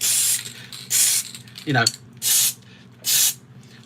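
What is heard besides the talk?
spray can of primer being shaken and sprayed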